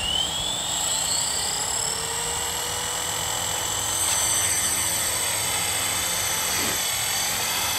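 A Blade 230 SV2 radio-controlled model helicopter with LED lights lifts off and hovers, its high rotor whine and motor buzz steady and fairly close throughout, with a brief rising whistle near the start.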